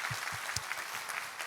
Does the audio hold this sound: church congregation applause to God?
yes